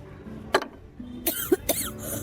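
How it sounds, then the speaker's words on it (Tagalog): A person coughs several times in short separate bursts, close by and fairly quiet, in an indoor domestic setting during a meal. "Hanggang ngayon, inuubo ka pa rin?"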